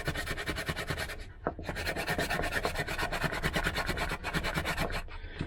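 Sandpaper rubbed in quick back-and-forth strokes over a solid wooden spoon carved from firewood, a close, steady scratchy rasp with a few brief pauses.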